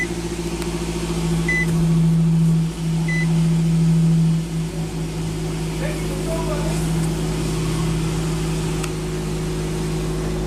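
A 2014 Nissan Rogue with a 2.5 L four-cylinder and push-button ignition settling to a steady low idle hum after starting, heard from inside, with a brief chime and someone talking over it.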